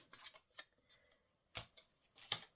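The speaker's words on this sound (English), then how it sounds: "Snip a bit of this." Scissors snip through paper and lace trimmings at a crafting table, a handful of crisp, close cuts spaced irregularly with quiet pauses between them, no talking.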